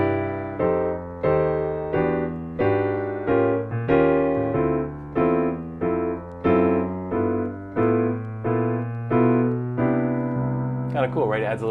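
Piano comping jazz chords in the right hand over a walking bass line in the left, giving a light swing; notes strike in a steady pulse, close and clear, with a brief voice at the very end.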